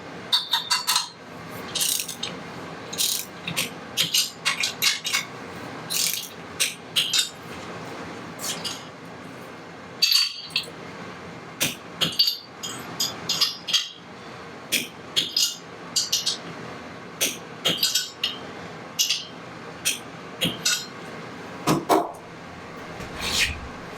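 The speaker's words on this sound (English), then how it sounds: "So here's the first stages of torquing up the torque plate." A wrench torques nuts on a Harley torque plate, sounding as a close run of rapid ratchet clicks in repeated bursts with metallic clinks and short pauses between them.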